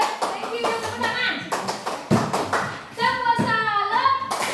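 A classroom of students claps in short, scattered bursts of taps and applause, mixed with lively children's voices chanting and talking over it.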